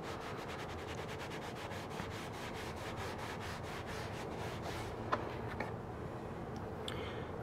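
Leather balm being buffed by hand into a finished piece, a steady soft rubbing texture that runs continuously at low level, with a couple of faint light taps near the end and no talking.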